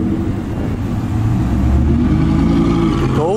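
Lamborghini Gallardo supercar engine at a bar car show, a loud, close, deep engine note that swells and rises in pitch as it revs, with voices and crowd noise around it.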